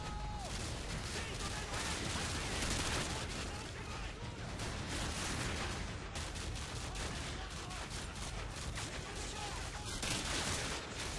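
Heavy gunfire from enemy soldiers in Call of Duty: Modern Warfare 2 crackles as dense, rapid volleys of shots, loud and continuous throughout.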